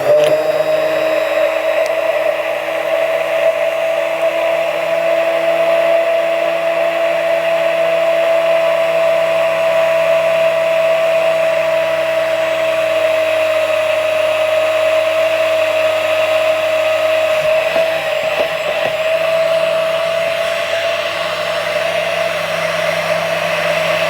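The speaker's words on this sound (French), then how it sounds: "je vais prendre mon meilleur ami qui est mon petit mixeur Bamix, qui me permet à travailler tous mes glaçages" A small Bamix immersion blender mixes a glaze preparation, its steady high motor whine holding unbroken and loud throughout, with no talk.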